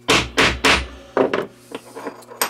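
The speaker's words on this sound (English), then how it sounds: "And then I'm going to seat it with the hammer" A hammer strikes a piece of flat steel to seat a .38 rimfire bullet during cartridge reloading: several sharp, close taps, three quick ones, then a pause, a double hit and lighter scattered taps.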